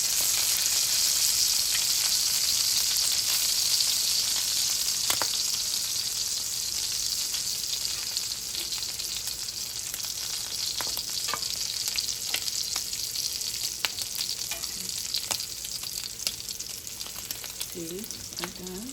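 Bacon frying in a pan while cooking breakfast, a steady, loud hissing sizzle that runs throughout with occasional pops and utensil scrapes, and a brief voice near the end.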